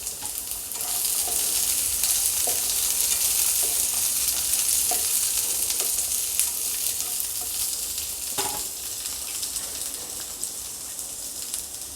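Ginger and garlic cloves roast in a pan, giving a steady sizzle and crackle with occasional stirring clicks, close and continuous throughout without talk.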